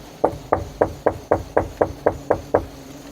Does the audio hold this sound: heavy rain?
no